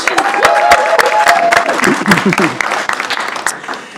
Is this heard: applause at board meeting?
yes